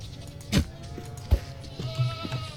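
A goat near crops in the video game Primal Core gives three short, close bleats about a second apart, loud and alone.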